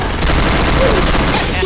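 Rapid bursts of in-game gunfire in a Free Fire duo versus duo match, dense and loud throughout, with the shooting continuing as a steady fusillade.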